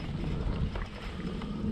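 Wind gusting across the water of a small canal while bass fishing from a boat, a steady close low rumble of buffeting air with no clear pauses.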